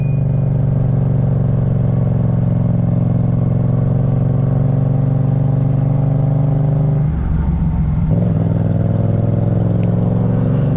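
A motorcycle engine revs steadily and loudly while climbing uphill over the Sella Pass in the mountains, with a brief dip in pitch midway as the throttle changes, running continuously and close by with no talk.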